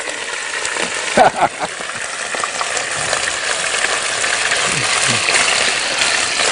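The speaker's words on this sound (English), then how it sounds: "this is frying." Rice frying in a pan over a high flame, a steady broad sizzle with occasional stirring scrapes, close and continuous beneath a brief spoken remark.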